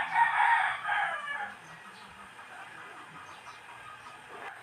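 A rooster crows once near the start, a loud drawn-out call that fades over about two seconds into quiet background with faint distant noise.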